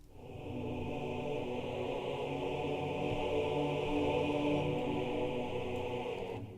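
A sampled choir, blending the Lacrimosa and Dominus libraries, holds a steady sustained chord that swells in softly, stays even and fairly quiet throughout, then fades slightly at the end.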